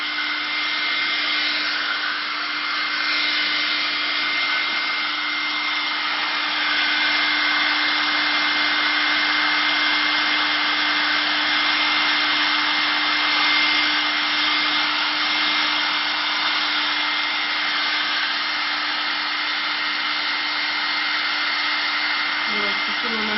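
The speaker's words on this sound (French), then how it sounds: "On prend le sèche-cheveux et on fait." A hair dryer drying paint on glass blows continuously at close range, a steady loud whoosh with a constant hum that runs the whole time without pause.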